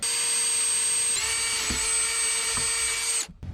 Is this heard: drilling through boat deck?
yes